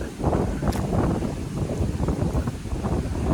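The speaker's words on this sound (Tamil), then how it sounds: "இந்த காணொலியை நாங்கள் ஒளிப்பதிவு செய்கிற நேரம் வந்து நல்ல காற்று வீசி கொண்டிருக்குது" Strong wind blows across open land at Navatkuli in Jaffna, roaring steadily and buffeting the microphone with loud, gusty rumbles throughout.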